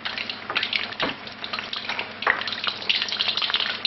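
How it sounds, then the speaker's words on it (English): Battered basa fillets frying in a pan of hot oil, a steady close bubbling crackle with brief louder spits, no voices. "Fish is cooking away nicely."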